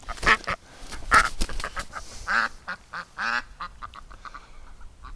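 A duck quacks repeatedly in short, loud, nasal bursts at close range, with no talk over the calls.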